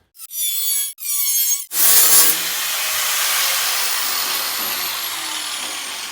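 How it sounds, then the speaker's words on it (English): A cutoff wheel cuts steel for a custom Duramax hood: two short whining spin-ups, then a long, loud, continuous abrasive grinding hiss as the wheel bites through the metal up close. "we're gonna run the cutoff wheel down, cut this off"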